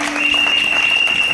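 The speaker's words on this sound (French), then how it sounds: "je voudrais vous prier de bien vouloir applaudir pour chacun de vous ici présent" Guests applaud at a twin birthday party celebration, a steady dense burst of clapping filling the room for the whole short moment, with a faint tone held underneath.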